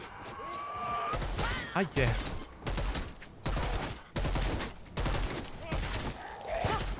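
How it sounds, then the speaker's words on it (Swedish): Loud bursts of rapid gunfire hit zombies in Dead Island 2, several sustained volleys separated by short pauses, with a man's brief exclamation between them. "Väldigt mycket skott för att få ner två stycken."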